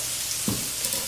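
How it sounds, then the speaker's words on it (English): Beef steaks searing and browning in a pan, a close, steady sizzle with a brief soft clunk as a steak is turned over, no talking. "the steaks are starting to brown on one side, so I am just flipping them over"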